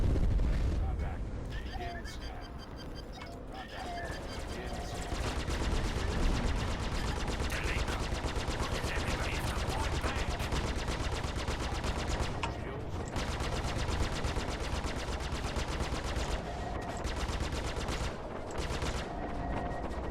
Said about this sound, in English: I want to know who's shooting at me.